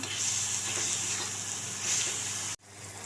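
Egg bhurji with turmeric, black masala, salt and chilli sizzles hard in a hot pan while being stirred, a loud continuous hiss that cuts off abruptly near the end.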